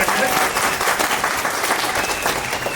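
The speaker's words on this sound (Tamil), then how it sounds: "பலத்த கரகாசம் கொடுக்கலாம்" Loud, sustained applause from a crowd at an awards ceremony and cultural event in Erode, steady and dense throughout with no breaks.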